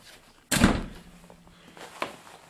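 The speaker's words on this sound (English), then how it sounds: "Door panels put back on." Car door panel pressed back into place during a speaker install, one sharp loud thunk followed by a fainter knock about a second and a half later, in a quiet space.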